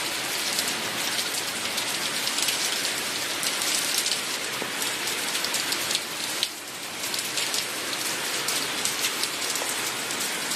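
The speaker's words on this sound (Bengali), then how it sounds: "বাইরে প্রচন্ড বৃষ্টি হচ্ছে" Heavy rain pours outside in a dense, steady hiss of drops striking surfaces, loud and unbroken for the whole stretch with no voices.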